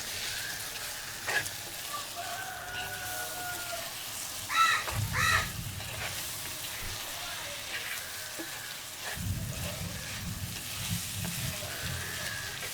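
Tomatoes and onions sauté in hot oil for a Kerala varutharacha chicken curry, a steady close sizzle with stirring scrapes and a couple of louder bursts as ingredients hit the pan, no talking.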